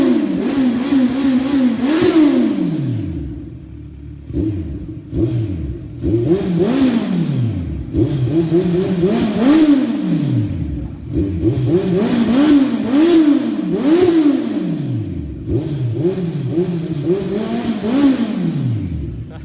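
Kawasaki Z1000 motorcycle fitted with a slip-on exhaust, revved repeatedly in loud, close blips that rise and fall sharply with a deep, bassy tone and brief idle gaps between pulls.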